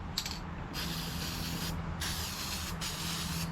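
An aerosol spray paint can hisses in short bursts while touching up paint on a Simplicity Regent lawn tractor, with about three separate sprays close up and no talking.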